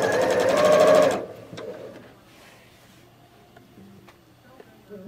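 A sewing machine stitches in a fast, even rattle for about a second, then stops, leaving a quiet room with faint clicks.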